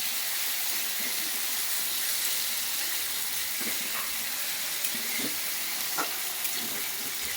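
Boiled chickpeas and potato frying with tomato and onion in a pan, a steady, even sizzle and hiss throughout with faint scattered pops and stirring touches, no voices.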